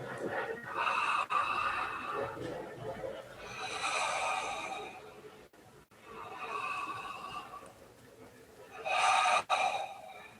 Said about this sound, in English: It's just going to be conscious connected breath,